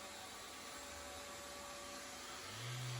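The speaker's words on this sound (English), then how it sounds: "So I'm just going in with sander here now, just cleaning it all up." Power sander working over wood, a steady continuous whirring motor drone, close and even throughout with a slight rise in pitch and loudness near the end.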